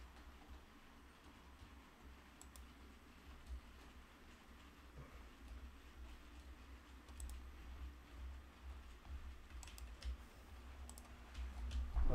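Soft computer mouse clicks and keyboard typing tick away sporadically at low level over a steady background hum, with sharper clusters of keystrokes near the end.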